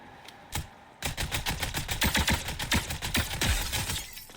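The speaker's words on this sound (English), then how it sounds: "I hear someone shooting over here" Rapid automatic gunfire in Fortnite No Build gameplay, a fast string of sharp, evenly spaced shots after a couple of isolated cracks, fairly close and loud with no talking.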